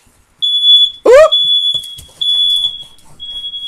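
Home smoke and fire alarms set off by heat from a heat gun used in a craft room: loud, piercing continuous beeping from more than one unit, cut by a brief sharp exclamation.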